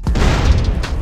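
A short, dense boom from an explosion in a modded GTA San Andreas game, a rumbling blast that fills about one second with a second burst near the end.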